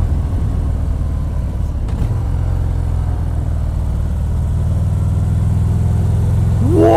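A 2019 Harley-Davidson FXDR 114 motorcycle engine rumbles steadily while riding, a loud low-pitched drone with wind noise that holds throughout and swells slightly near the end.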